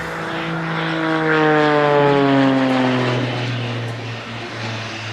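An Extra NG propeller aerobatic plane roars at full power during an airshow display at Farnborough. The loud engine drone swells and shifts pitch as it passes near, then recedes slightly.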